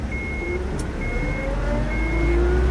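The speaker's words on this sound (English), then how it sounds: "Crap, they started the engine." In the video game UnMetal, a truck engine starts and keeps running as a low, rising rumble, with a thin, repeated beeping tone above it; no talking.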